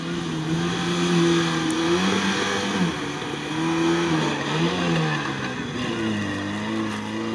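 Lada Niva engine straining off-road through deep sand, a loud continuous mid-pitched roar with revs rising and falling in waves, close and sustained for several seconds with no voices.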